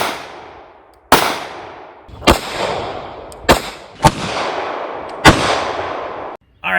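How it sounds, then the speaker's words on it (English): Hornady law enforcement rifle rounds strike a Guard Dog Big Daddy armor plate in five sharp, loud gunshots spaced about a second apart, each with a ringing tail that decays before the next. "we have our Hornady law enforcement rounds going into Big Daddy plate over there on the right"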